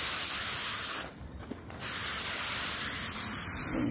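Sawyer permethrin insect repellent is sprayed from a pump bottle onto clothing, giving a loud, close, continuous hiss with one brief pause partway through.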